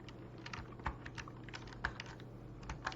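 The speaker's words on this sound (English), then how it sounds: "I was typing." Keyboard typing heard up close and alone, a run of quiet, uneven key clicks with a few sharper taps over a low steady hum.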